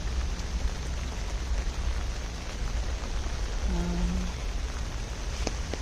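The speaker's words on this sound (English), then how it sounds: "this rain is becoming quite insistent" Heavy rain falls steadily in a cemetery, a dense, continuous hiss of drops on surfaces close by, with no voices and only faint brief tones underneath.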